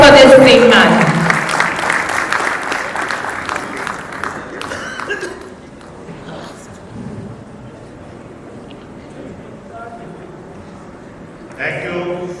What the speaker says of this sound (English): A big round of applause for this great man.